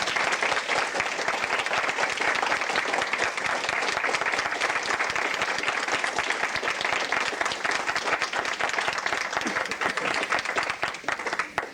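A banquet audience claps in a dense, sustained burst of applause, steady and loud throughout, with no talking over it.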